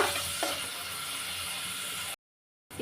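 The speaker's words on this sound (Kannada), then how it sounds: "ಈರುಳ್ಳಿ ಅದನ್ನು ಹಾಕ್ರಿ ಫ್ರೈ ಮಾಡಿರಿ ಎಣ್ಣೆಗೆ ಸ್ವಲ್ಪ ಹೊತ್ತು" Finely chopped onions fry in a few spoonfuls of hot oil, giving a steady soft sizzle with a faint stir, before the sound cuts out briefly.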